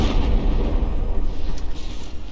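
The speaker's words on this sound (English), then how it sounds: "The explosions managed to shave some barrels off there." Naval shells exploding against battleships in the From the Depths combat game, a dense rolling rumble of booms and bursts, loud and continuous throughout with no speech.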